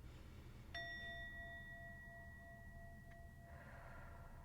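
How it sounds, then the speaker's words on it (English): A singing bowl bell is struck once and gives a clear ringing tone with bright overtones that lingers for several seconds and fades slowly against a faint background hiss. "as I sound the bell"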